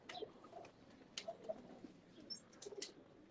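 Pigeons in a breeder's loft, including an aged salara pigeon, coo softly in low repeated murmurs, with a few faint chirps and wing sounds in a quiet background.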